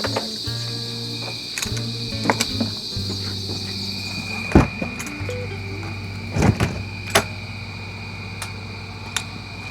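Crickets keep up a continuous high chirping throughout, layered with low droning hums and scattered knocks and clicks nearby. Nobody speaks.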